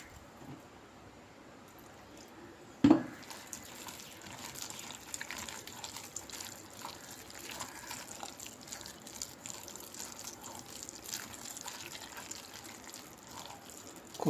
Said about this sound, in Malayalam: കുറച്ചുകൂടെ വെള്ളം ഒഴിച്ചു